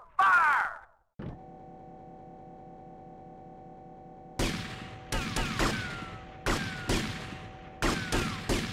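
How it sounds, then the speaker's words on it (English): Gunfire in the video game GTA Vice City: after a short burst of noise and a steady hum, a run of sharp shots crackles out in irregular bursts, fairly loud and close, with no talk over them. "the shooting in GTA Vice City is pretty easy"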